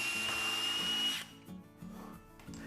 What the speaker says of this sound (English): drill that hole out using this drill bit